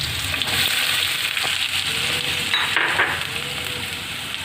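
Diced potatoes dropped into onions and garlic frying in oil for Punjabi khichdi, a loud steady sizzle with a brief stirring scrape partway through.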